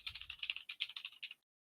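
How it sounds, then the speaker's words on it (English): Rapid clicking keystrokes on a computer keyboard in a quick, uneven burst lasting over a second, close and clear, then stopping into silence. "What are you typing?"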